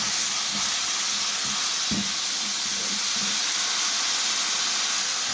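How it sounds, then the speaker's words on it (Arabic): Rice and vermicelli sauté together in a pan with a steady, close hiss and sizzle, broken by a few soft clicks and scrapes. "بشوح برضو الشعرية مع الرز"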